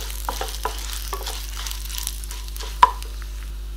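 Dried red chillies and toor dal frying in hot oil for drumstick leaves poriyal, a soft steady sizzle with light scraping stirs and one sharp clink of the spoon near the end.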